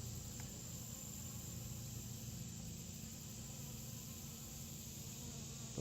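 Bees buzz as they feed, making a steady, dense drone that continues evenly throughout with no voices.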